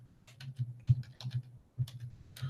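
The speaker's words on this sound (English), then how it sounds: "I'm typing the links right now," Quiet, irregular clicking of a computer keyboard being typed on, with short bursts of keystrokes and brief pauses between them, close and alone with no voices.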